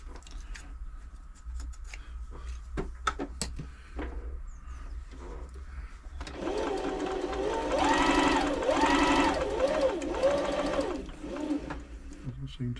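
A Brother Super Ace III domestic sewing machine being serviced, first ticking and clicking at low speed with brief talk, then running steadily and loudly as it forms stitches, its whirring pulsing rhythmically near the microphone.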